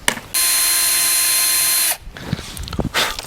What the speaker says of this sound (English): the hole that we're drilling is already super small, so we're not taking out much material